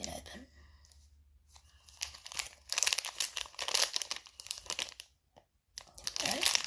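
A plastic wrapper on a medical item crinkles and rustles in close, irregular handling bursts with short pauses, quiet overall and up near the listener.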